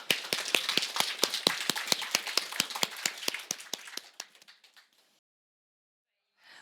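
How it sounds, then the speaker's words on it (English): An audience at an annual organisation meeting claps in a crisp, steady rhythm of distinct close claps, several per second, which thin out and stop after about four seconds, leaving silence. "And a big applause."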